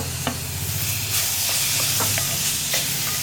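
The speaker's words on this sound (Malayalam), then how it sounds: "നമുക്ക് ഇതിലേക്ക് കട്ട് ചെയ്ത് വെച്ചിരിക്കുന്ന തക്കാളി ആഡ് ചെയ്യാം." Chopped tomatoes hit frying masala gravy in a pan, setting off a loud, steady sizzle with scattered spoon scrapes and stirring clicks, close and continuous with no voices.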